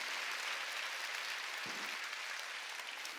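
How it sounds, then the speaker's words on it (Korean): A church congregation applauds during a Wednesday worship service, producing a soft, even, continuous patter of many hands heard from a distance, with one brief low thump partway through. "깨달은 사람만 박수치라고"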